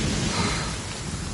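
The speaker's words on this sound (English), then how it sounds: "The sound of thunder is the prelude to new life." Steady, dense rainfall with a low rumbling of thunder underneath, continuous and fairly loud throughout with no voices.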